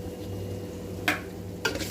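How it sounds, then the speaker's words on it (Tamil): Onions and green chillies frying in oil give a steady, low sizzle close by, broken by two short scraping bursts as the pan is stirred. No one speaks. "வெங்காயம் ஒரு 2 வெங்காயம், பச்சை மிளகா ஒரு 3 போட்டு இருக்கிறேன், வதங்கட்டும்"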